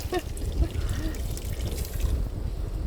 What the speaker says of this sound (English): now we're putting our butter sauce on there